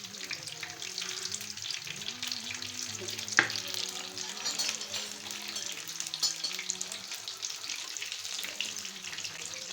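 Food frying in hot oil for iftar, a dense, continuous close sizzle and crackle with a low hum beneath and one sharp knock partway through.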